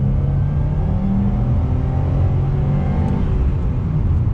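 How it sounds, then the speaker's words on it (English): A Subaru WRX STI with an EJ boxer engine and unequal-length headers idles with a steady, close, loud low rumble and a slightly uneven throb throughout, with no other sounds over it. "That little rumble you're getting, because remember, you get that boxer rumble from the unequal header lengths on this engine setup on the EJ"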